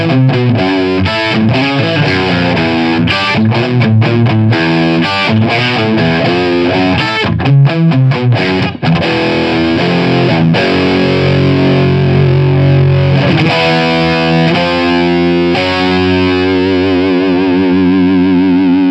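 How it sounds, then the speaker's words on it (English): Electric guitar played through a Granville AMD 800 amplifier, a JCM800-style build, boosted by a pedal: loud, heavily distorted riffs and sustained chords with palm-muted chugs, then ringing held notes with chorus-like wavering near the end. "A little sound test of my latest amp build here, the Granville AMD 800."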